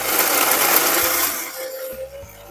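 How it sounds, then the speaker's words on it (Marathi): Mixer grinder blending onion and cashew paste with a little water for kaju curry, a loud steady whirring roar that winds down after a second or so, with short motor pulses toward the end. "आता आपण मिक्सरमध्ये काढूया, थोडंसं पाणी टाकूया आणि एकदम मस्त बारीक पेस्ट बनवायची आहे आपल्याला"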